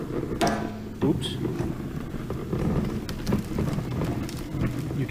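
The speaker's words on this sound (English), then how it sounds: "You can hear all the stuff getting sucked up in there" A Karcher S4 Twin push floor sweeper rolls along, its brushes throwing small debris and grit into the hopper with a continuous rattling, gritty clatter and occasional sharper knocks of stones.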